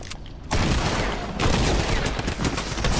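Gunfire in the Fortnite video game: after a brief quieter lead-in, a loud, sustained volley of rapid shots erupts and continues without pause, close and dominant.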